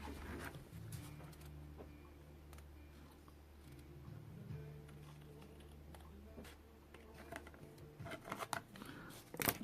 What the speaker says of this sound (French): avec la paire de ciseaux.